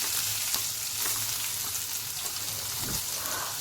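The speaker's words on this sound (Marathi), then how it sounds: "आता हे आपल्याला चांगलं परतून घ्यायचं" Onion, green chillies, capsicum and tomato sizzle steadily in a hot pan for vermicelli upma tempering, a dense continuous frying hiss with faint stirring taps, close and fairly loud, no talk.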